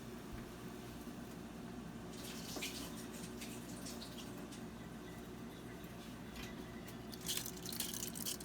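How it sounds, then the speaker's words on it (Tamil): Water is poured into a pot of rice and lentils for ven pongal, a faint, steady splashing trickle with a few soft drips, quiet and without any talk. "கொஞ்சம் தண்ணியை நான் கொட்டிட்டு மீதி இதை போடுறேன்."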